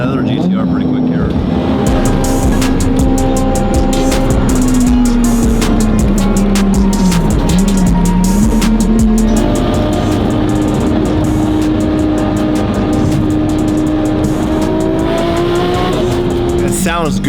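A Nissan GT-R engine drones loud and steady inside the car at speed on a Japanese street, with wastegate chatter and crackles over the tone and a voice talking throughout.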